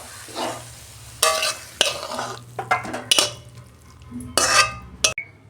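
Cooked potato greens are scraped and tipped out of a pan, with sharp metallic spatula knocks and scrapes in separate bursts over a faint sizzle, close by.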